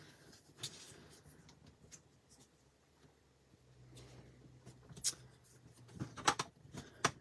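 Paper is folded and burnished in a chevron folding technique: soft rustles and scraping strokes, then brisk crisp crinkles and rubbing toward the end. Everything is close and quiet.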